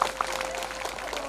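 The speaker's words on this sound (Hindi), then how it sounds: "सच्चा दिल से ताली बजाबो" An audience at a Hindi religious discourse claps together in a short burst of steady, moderately loud clapping, with a couple of sharper claps near the start.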